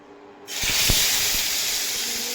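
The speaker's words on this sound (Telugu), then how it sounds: "మనం ముందుగా మ్యారినేట్ చేసుకొని ఉంచుకున్న చికెన్ని ఇప్పుడు ఫ్రై చేసుకుందాం అండి." Marinated chicken for a tandoori masala curry hits hot oil, and a loud, steady sizzling hiss erupts abruptly and holds, with a few faint low clunks early on.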